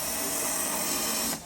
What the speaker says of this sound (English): I'm drilling the pilot hole